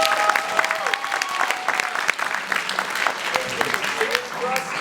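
Warm audience applause at a local talent show, steady crowd clapping throughout with a bright tonal musical hum faintly underneath.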